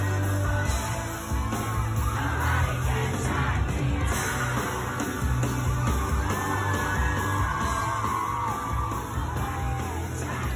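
A live concert crowd sings and yells along to a pop song, a dense roar of many voices with whoops over the music.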